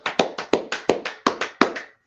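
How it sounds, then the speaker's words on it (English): A group claps hands together in a brief, uneven burst of about ten distinct claps at a gathering on 125th Street in Harlem, New York, close and fairly loud, with no talk. "So let's clap it up for class right there."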